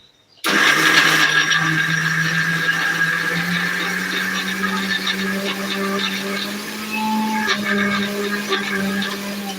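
A kitchen mixer's motor starts abruptly and keeps whirring at a steady, loud pitch, with slight shifts in tone as it grinds.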